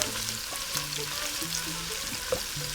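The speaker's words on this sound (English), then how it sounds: "you want to get the onions nice and cooked to translucent a little bit" Onions frying in a pan for spinach and sausage pasta, a steady soft sizzle and crackle with occasional stirring clinks, no voices.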